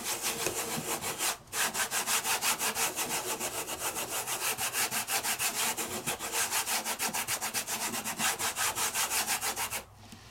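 Embossing powder being rubbed onto a card while crafting with a quick card kit, heard as rapid, even back-and-forth rubbing strokes up close and fairly loud, pausing briefly twice, with no talking.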